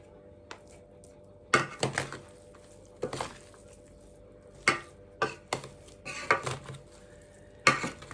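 Onion cooking in a couple of spoons of vegetable oil for a Turkish dish, heard as a faint low sizzle broken by several sharp clanks and scrapes of a utensil against the pan, with no talk.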